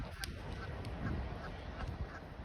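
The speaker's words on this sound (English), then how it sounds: "Listen to them ducks." Faint honking quacks from a group of ducks come in scattered calls over a low outdoor background.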